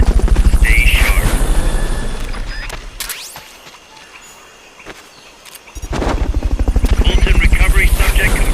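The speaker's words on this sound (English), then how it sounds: "Fulton recovery subject confirmed onboard helicopter." A Fulton recovery helicopter from Metal Gear Solid: Peace Walker thumps with loud, rapid rotor beats that fade into a quieter stretch of game sound and then surge back, with speech heard over it.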